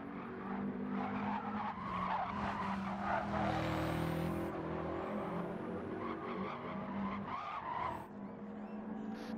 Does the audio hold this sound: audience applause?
no